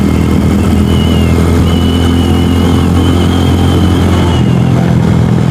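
A df250rts / Venom X22R 250 motorcycle engine holds third gear at about 4,500 RPM, a loud, steady, close-up drone with a faint whistling tone riding over the rumble and wind, without any talk.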